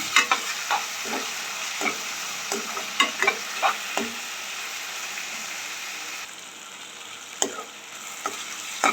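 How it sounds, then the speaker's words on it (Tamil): Tomatoes, onion and garlic saute in hot oil for a garlic kuzhambu, a steady close sizzle broken by repeated scraping clicks as the pan is stirred at an irregular pace. "2 தக்காளி சேர்த்துக்கிறேன். சேர்த்து இதையும் வந்து கொஞ்சம் நல்லா வதக்கி விடுங்க."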